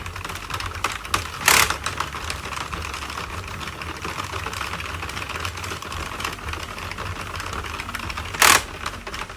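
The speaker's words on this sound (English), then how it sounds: "you want to make sure that the machine hasn't dropped any stitches" Knitting machine cranked in a circle to make a scarf: steady, continuous rapid clicking and clattering, with two louder, sharp rattling bursts near the start and near the end.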